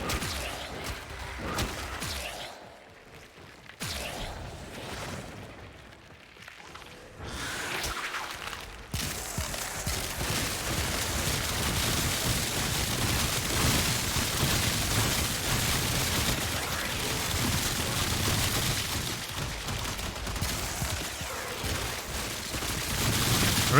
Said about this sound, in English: Lit up by rockets here.